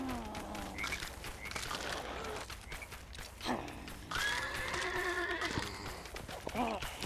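Horse neighs and whinnies with clip-clop hooves, set against a busy Lego Worlds game soundscape and some talking.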